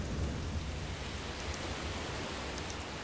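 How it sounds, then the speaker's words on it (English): Steady rain shower in north-east Brazil, a dense even hiss of falling rain with a low rumble beneath, constant and fairly close throughout with no voices. "As is often the case in Brazil, rain shows up suddenly."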